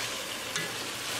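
Beef hitting a pan of hot tadka with tomato sauce, a steady close sizzle and crackle with a brief spattering burst, no voices.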